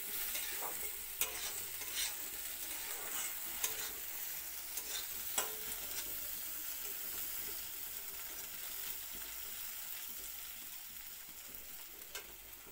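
Shital fish frying together with onions in a pan: a steady, faint hiss of sizzling oil runs throughout, with occasional light clicks and taps from stirring.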